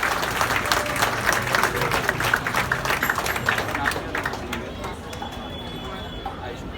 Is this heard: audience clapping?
yes